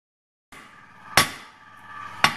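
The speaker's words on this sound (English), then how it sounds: "Back to the traditional hammering." Steel from a truck leaf spring hammered by hand while forging a bark spud log peeler: two sharp, loud, ringing blows about a second apart, heard close up with no talk.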